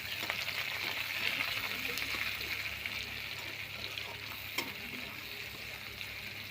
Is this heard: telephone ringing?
no